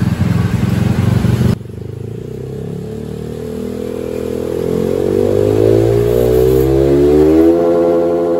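A Honda BeAT motorcycle fitted with a 26mm Vario 125 throttle body: a loud idle drops off, then the engine revs up steadily and holds a rising whine, close by with no talk.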